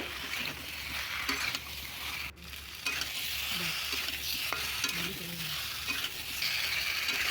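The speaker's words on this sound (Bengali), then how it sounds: "এবারে এঁচড়গুলো দিয়ে দিলাম দিয়ে ভালো করে কষিয়ে নিতে হবে এঁচড়গুলো মশলার সঙ্গে" Green jackfruit being stir-fried with spices in hot oil, giving a continuous loud sizzle with repeated scraping stirs throughout and one brief dip midway.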